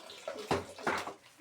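Water splashes and gushes in short irregular bursts close by, as if poured or running into a basin, with louder surges around the middle and no speech.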